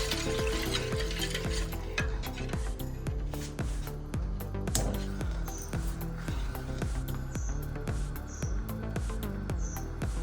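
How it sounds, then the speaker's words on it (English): Rice pudding is whisked steadily in a pot as it cooks on the stove, a continuous stirring and scraping texture with a soft sizzle underneath, close and fairly loud, with no one talking. "Just remember to keep whisking till your flame goes out."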